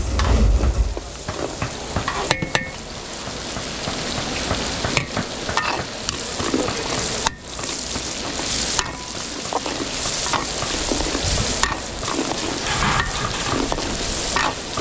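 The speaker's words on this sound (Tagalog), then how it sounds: "papupulayin lang natin bawang sibuyas" Garlic and onion sautéing in a pan for a simple provincial gathering in Zambales, a close, crackling sizzle punctuated by repeated clanks and scrapes of stirring, with no talking.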